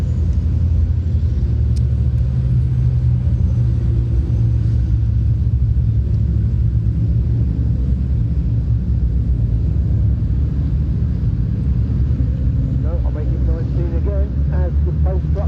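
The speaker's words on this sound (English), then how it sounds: "Pace truck is into pit lane." British Truck Racing Championship trucks at Pembrey circuit produce a loud, continuous low rumble throughout, with a voice briefly audible over it near the end.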